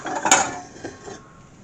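Clean metal frying pans are taken out and handled in a home kitchen, giving one bright clattering knock followed by a few softer clinks that fade.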